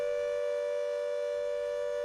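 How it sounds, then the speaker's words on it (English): An air raid siren over Warsaw wails in a single steady, unbroken tone, loud and sustained throughout, with a low rumble underneath that briefly drops away. "We are hearing sirens over Warsaw."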